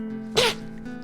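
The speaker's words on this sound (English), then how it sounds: "I sneezed 3 times in a row" A single sharp human sneeze bursts out loud and close, a brief explosive blast standing out against a steady low background hum.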